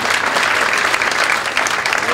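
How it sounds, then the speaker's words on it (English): An audience gives loud, dense applause for a couple celebrating their 60th wedding anniversary at a jazz lecture, a steady wash of clapping with no pauses. "And how about a big round of applause for them?"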